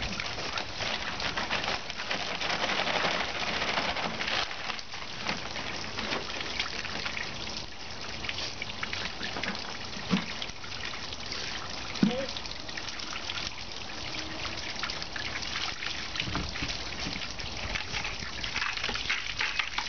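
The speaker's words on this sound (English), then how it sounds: "I'm going to fill up the next bucket" Running water trickles and gushes steadily into a bucket outdoors while washing play sand, with faint bird sounds in the background.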